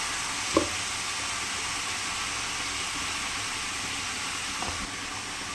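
Bottle gourd, potato and bori with green chillies sautéing in a pan, a soft continuous sizzle and hiss with two brief knocks of a spoon against the pan, no talking.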